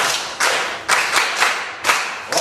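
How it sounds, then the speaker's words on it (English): Schoolchildren in a Kenyan science class clap together in a rhythmic pattern of sharp, loud bursts, about six distinct clusters of claps in quick succession. "Clap for him"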